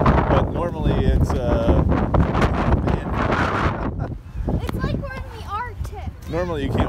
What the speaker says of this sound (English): you can just see how fast the wind's going